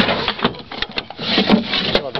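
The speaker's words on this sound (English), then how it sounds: "You've got the further drawers that run well," Wooden drawer of a solid oak Art Nouveau sideboard with softwood sides sliding, giving short rubbing, knocking sounds beneath a man's speech.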